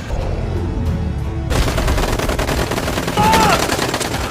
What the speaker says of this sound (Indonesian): tiba-tiba ada salah satu anggota yang nggak sengaja menembakkan senjatanya